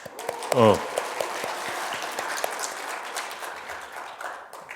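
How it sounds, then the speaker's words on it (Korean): Congregation at a revival service applauding, scattered clapping heard under and between voices, with a brief loud burst of laughter or a shout near the start. "박수."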